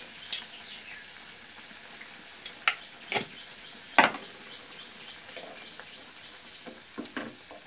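Red chutney seasoned with chili powder and salt is stirred in a pan for dosa: a low simmering sizzle with scattered sharp scraping clicks of the spoon, a few louder knocks near the middle.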